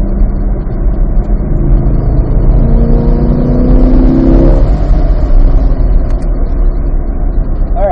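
Car engine revving hard on a lap of a race track, a loud, continuous drone with rising and falling pitch as the driver accelerates through the corners, close and dominant throughout.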